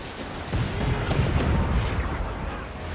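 Ship cannons in Assassin's Creed IV fire in a rolling naval barrage, deep booms and rumbles overlapping continuously across the moment, loud and close with no pause.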